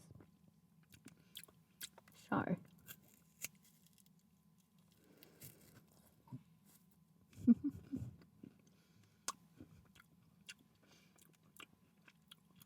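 Someone chews coffee-flavoured Russian candy close to the mic, with soft crunches and wet mouth sounds in bursts over a quiet hum.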